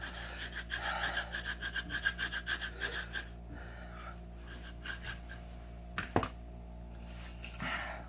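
Citrus zest being grated on a hand zester in a home kitchen: a run of quick, rhythmic rasping strokes close by, then quieter scrapes and a few sharp knocks, with faint breathing but no talk.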